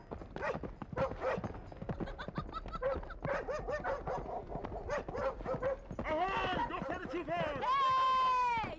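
A dog barks in a scene from a historical Persian film, with short sharp barks coming through amid ongoing dialogue and voices.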